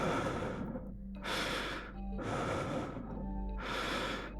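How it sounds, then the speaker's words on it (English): A frightened character in the video game LADS breathes heavily in three or four ragged, close bursts of breath with short pauses between, fairly quiet. "Oh, he's breathing like he's scared."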